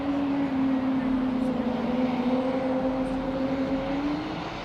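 An airliner departing at an airport gives a steady, sustained jet engine drone with a droning tonal whine, moderately loud and fairly close throughout, with no talk over it.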